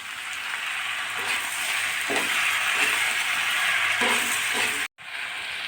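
Chopped tomatoes and green chillies go into a pan of frying potatoes for a dried cabbage ghonto, producing a steady hissing sizzle with a few soft stirring knocks before the sound cuts out briefly near the end.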